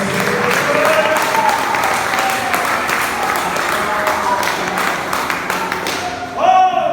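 A church congregation at a revival service claps in a strong, sustained round of applause, with voices mixed in, before a voice rises near the end as the clapping fades.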